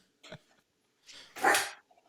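A dog barks at foxes in a garden at night. A short yelp is followed by a louder, sharper bark a moment later, both fairly faint and distant, with no talking.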